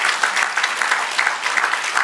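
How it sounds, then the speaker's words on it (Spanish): A church congregation applauds during a service, a steady, close burst of many hands clapping together, heard alone with no talk. "Un aplauso fuerte para Cristo."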